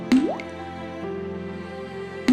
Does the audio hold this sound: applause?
no